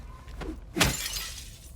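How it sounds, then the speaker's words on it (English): Glass shatters once, sharp and close, in Silent Hill 2 Remake, then a brief tinkling tail fades out over quiet ambience. "Except for me breaking glass."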